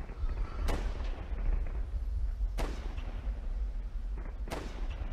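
Three sharp sniper rifle shots in the Warfare 1917 flash war game, spaced about two seconds apart, each a crisp crack with a short tail, sounding over a steady low battlefield rumble.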